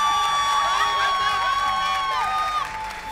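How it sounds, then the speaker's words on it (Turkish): A studio audience at a Turkish family quiz show's New Year special breaks into applause, cheers and whoops, a lively, loud burst of clapping and shouting that carries on for a few seconds. "Alkış"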